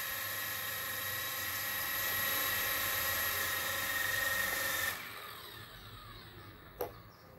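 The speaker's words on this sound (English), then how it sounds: "Now you can fly the helicopter." A C186 PRO BO-105 four-channel scale RC helicopter with its rotors spinning up close, a loud, high, steady whine that cuts off abruptly partway through, then quieter room sound with one short knock.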